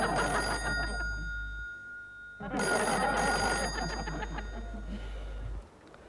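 A telephone at a police station rings loudly in two long bursts of bright electronic ringing, with a short pause between them and no talk.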